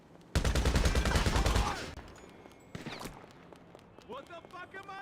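Gunfire in Grand Theft Auto V: a loud, rapid burst of automatic shots for over a second, followed by a few scattered shots and quieter game effects, close and dominant.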